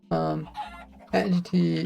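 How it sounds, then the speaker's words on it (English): Minecraft chickens clucking in a game, several short squawky bursts with gaps between them, close and fairly clear, with no talk over them. "that chicken just went right on through"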